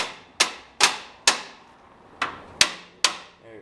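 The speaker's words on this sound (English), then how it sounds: "Don't hit on the motor, but you can hit on the bracket." Six sharp metallic strikes ring out on a jointer's motor bracket to loosen the belt, spaced at a steady, deliberate pace with a brief pause midway, each hit bright and close with a short ringing decay.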